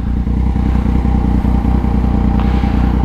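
A Yamaha MT-09 motorcycle engine runs steadily while riding at speed in cold air, a loud, close, low rumbling drone with rapid pulsing firing beats and faint mechanical clatter throughout.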